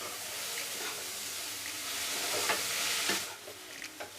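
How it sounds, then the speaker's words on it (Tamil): Chana dal and coconut being stirred together in a hot pan, a soft sizzle broken by scraping spoon strokes that grow a little louder midway, close up with no speech. "கடலைப்பருப்பும் தேங்காவும் நல்லா மிக்ஸ் ஆகிற அளவுக்கு கலரி விடுங்க."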